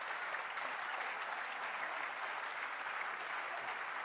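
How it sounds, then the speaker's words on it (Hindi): Audience at a Hindi-Urdu poetry recital in tribute to Nida Fazli breaks into sustained, dense applause, steady and fairly loud for the whole stretch with no talking over it. "भाई साहब बजाते रहिए ताली"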